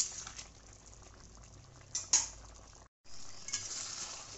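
A ridge gourd and potato poppy-seed curry with turmeric bubbles in a pan while a spoon stirs it, with a couple of sharper scrapes and clinks over a steady boiling hiss and a brief dropout.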